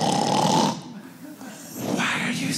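A comedian imitates snoring with his voice on stage, two loud rasping snore breaths separated by a quieter pause.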